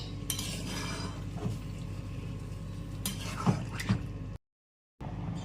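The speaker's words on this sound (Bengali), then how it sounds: "এবার এটাকে ভালো করে মিশিয়ে নিতে হবে পনিরের সাথে।" A spoon scrapes and clinks in a pan, working a curry mixture through paneer cubes for matar paneer with several distinct metallic knocks against a soft frying hiss, then a brief cut to silence.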